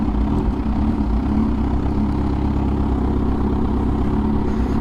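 A motorcycle engine runs near a chapel parking area, a loud, steady low rumble with an even idle-like drone and no break throughout.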